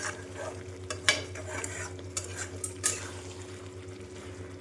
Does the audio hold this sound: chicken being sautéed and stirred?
yes